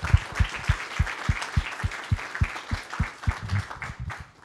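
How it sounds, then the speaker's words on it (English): After a software-development talk on IPv6, the audience claps in a sparse, steady rhythm of distinct, moderately faint claps that thin out toward the end. "Chris, before you leave the room, applause first."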